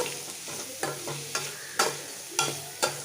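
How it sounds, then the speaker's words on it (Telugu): Vegetables seasoned with turmeric frying in a pan, a soft continuous sizzle broken by a series of sharp spatula strokes and scrapes every half second or so, close up with no voices. "ఇప్పుడు వెజిటేబుల్ కొంచెం ఫ్రై అవ్వాలి"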